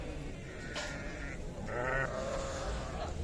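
Sheep and lambs bleating at a livestock market, a few wavering bleats rising over a constant crowd and pen murmur, one after another at moderate distance.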